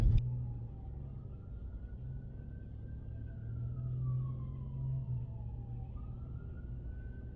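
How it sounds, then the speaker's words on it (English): A faint ambulance siren wails in the distance behind a car, its pitch slowly rising and falling over the car's steady low rumble. "I see an ambulance behind me."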